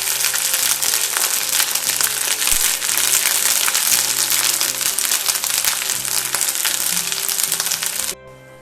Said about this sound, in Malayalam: നല്ലെണ്ണയിൽ വെച്ച് നമുക്കിതൊന്ന് നന്നായിട്ടൊന്ന് വറുത്തെടുക്കാം.